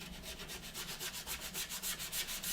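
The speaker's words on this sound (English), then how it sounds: "we're just going to come in, and we're just lightly rubbing, nothing too heavy" Light rubbing on the surface of a plastic Revell Star Destroyer model, a steady soft scratchy friction in repeated close strokes, quiet and alone.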